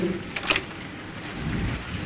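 Heavy rain pours down in a steady broadband hiss, with a low rumble of thunder underneath that swells toward the end. No voices are present.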